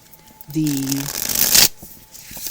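A deck of matte-gilded tarot cards with thin card stock is shuffled in one brisk, close riffling burst that swells and cuts off, with a voice speaking briefly just before it.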